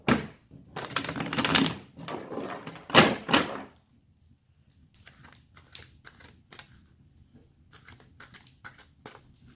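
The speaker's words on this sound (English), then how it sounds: "fully shuffling for you, Gemini" Tarot cards shuffled by hand during a reading: a few loud, close riffling bursts over the first few seconds, then softer scattered taps and card rustles.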